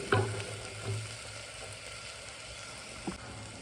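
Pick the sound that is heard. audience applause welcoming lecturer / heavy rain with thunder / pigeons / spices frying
spices frying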